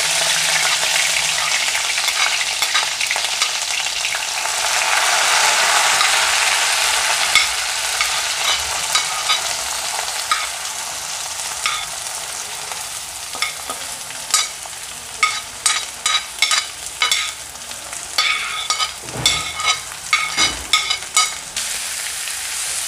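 Masala ingredients frying in hot oil in a pan, a loud, continuous sizzle at first, then repeated sharp scraping and stirring strokes against the pan over the steady frying, with no talking.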